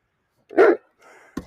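A dog in a training session gives one sharp, close bark, followed by a faint rustle and a brief knock, with no talking.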